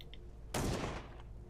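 A single loud gunshot from a video game demo weapon, sharp and close, lasting about half a second with a fading tail over a faint hum.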